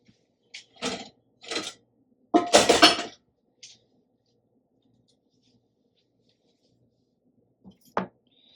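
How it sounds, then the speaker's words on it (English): A hot Dutch oven lifted out of a home oven for sourdough baking: a few separate metallic clanks and scrapes of the heavy pot and rack, one longer clattering burst in the middle, then quiet and a last sharp knock. "So I'm going to get the pot, the Dutch oven out."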